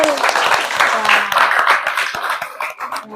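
Classroom students clap together in a short burst of applause, with a few voices talking over the clatter of hands before it tapers off.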